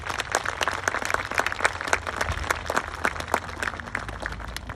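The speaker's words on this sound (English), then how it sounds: "So join me in thanking them right now with a round of applause." A graduation celebration audience gives a sustained round of applause, dense overlapping claps from many people filling the room at an even, steady level throughout.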